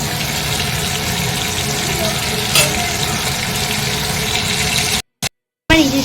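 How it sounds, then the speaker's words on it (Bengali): Fish frying in a pan in a home kitchen, a steady broad sizzle that runs continuously and close up, briefly cut by two gaps near the end before the frying noise resumes. "এখন আমি এখানে জুস মাছগুলো ভেজে নিচ্ছি"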